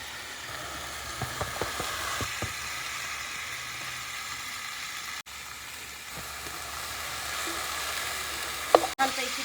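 Washed mixed vegetables with masala and coriander powder sizzle and fry steadily in a pan, a continuous close hiss with occasional stirring scrapes and clinks.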